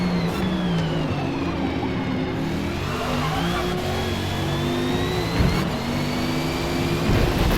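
A Bentley race car engine in the Forza Motorsport racing game drones steadily and loudly, its pitch sliding up and down with throttle and gear changes, with no talk over it.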